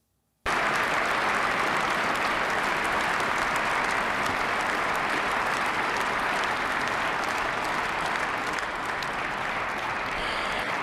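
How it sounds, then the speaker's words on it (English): Lawmakers in an assembly hall break into sustained, dense applause after a statement by Putin, starting abruptly and continuing loud and steady throughout. "His audience of lawmakers greeted the statement with applause."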